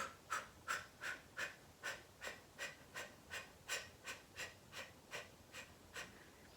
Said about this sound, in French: Inspire et expire.